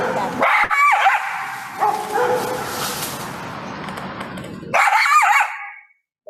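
Coyotes growling, snarling and barking, with harsh, agitated bursts up close, a long rough snarling stretch in the middle, then a sudden loud burst of yips near the end.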